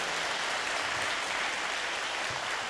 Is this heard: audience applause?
yes